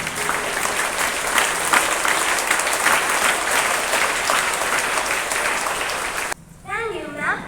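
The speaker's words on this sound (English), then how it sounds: "Let's give them a big round of applause." Loud, sustained applause from a school assembly audience for a class presentation on Air Force Day, dense clapping that cuts off sharply near the end as a voice begins speaking.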